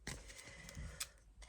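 Scissors snip a small paper flower during paper crafting, a few quick, faint, close cuts and rustles over a quiet background.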